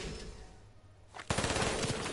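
In a PS4 shooter, things stay quiet for over a second, then a loud burst of rapid automatic fire erupts and keeps rattling in quick repeated shots to the end.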